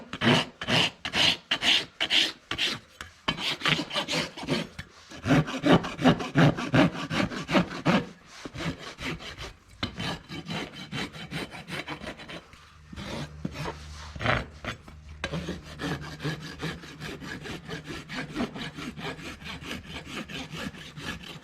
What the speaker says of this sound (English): I'm gonna carve in with my file here how much I wanna dress back from the top